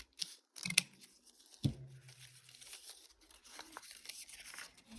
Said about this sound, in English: I'm just going to go ahead and do it with my scissors here